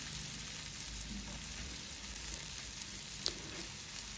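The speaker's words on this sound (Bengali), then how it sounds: "এখন পেঁয়াজটাকে হালকা লাল করে একটু ভেজে নিতে হবে।" A large chopped onion frying in hot oil in a frying pan gives a steady, low sizzle throughout, close and even, with no talking.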